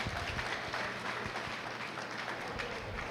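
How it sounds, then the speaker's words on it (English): A barn audience at a Clermont County meat goat show claps for the young exhibitors, a brief, dense burst of applause that holds steady throughout. "If you could give a round of applause to these kids on a job well done"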